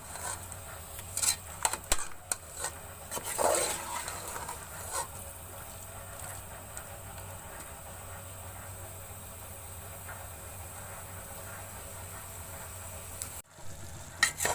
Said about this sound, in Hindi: हल्की आंच पे अब टमाटर को भून लूंगी।